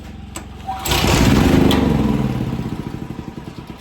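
A small engine, pulled without choke, catches with a rising roar and runs loudly for a couple of seconds, then sputters and fades toward stalling with an uneven, pulsing beat.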